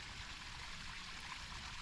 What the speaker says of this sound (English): you'll hear water flowing over and around rocks, which is a nice sound